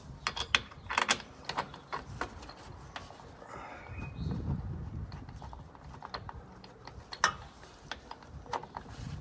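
Tools working on the top bolts of a dog bone engine mount on a Vauxhall Corsa VXR, with scattered metallic clicks and ratcheting taps in quick bursts, fairly faint and close, with no talking.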